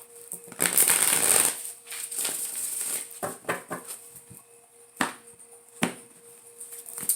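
Close cards being riffle-shuffled in a long burst, followed by scattered taps and flicks, with a couple of sharper knocks near the end.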